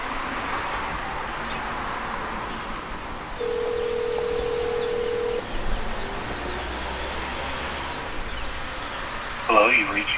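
A few short electronic dialing tones from a Bluetooth kit on a Porsche PCM 2.1, one longer steady tone, then a brief warbling ring, over a constant hissy background; no voices.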